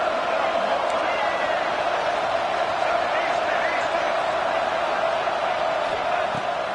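A college football video game stadium crowd at an Ole Miss versus Texas matchup roars in a dense, continuous wall of cheering, with a commentator's voice running over it.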